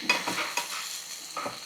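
Green chillies fry in hot oil with chana dal, mustard seeds and cumin, making a soft, close sizzle broken by a few brief stirring scrapes over a short moment.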